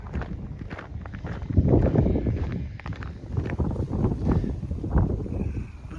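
Gusty wind buffeting the microphone outdoors along the John Muir Way, coming in loud uneven surges with low rumbling and no speech.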